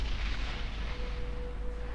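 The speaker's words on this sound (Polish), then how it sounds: "Coś wybuchło." A low, sustained rumble from an in-game explosion in Borderlands fills the clip as a steady, dense roar with no distinct onset, moderately loud and continuous throughout, with a faint steady tone running underneath.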